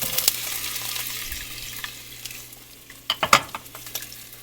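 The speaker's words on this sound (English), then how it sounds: "We're gonna start off by sauteing our onions." Onions sautéing in oil in a heated pot, a soft steady sizzle with a few close clinks and scrapes of stirring near the end.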